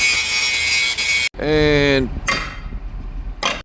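Grinding and sanding metal hardware on an 850K construction machine: a loud, steady abrasive roar, then a whining tool winding down in pitch, followed by a few shorter rough bursts of sanding.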